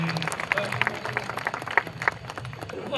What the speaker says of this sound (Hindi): तालियां थोड़ी जोरदार बजाइए।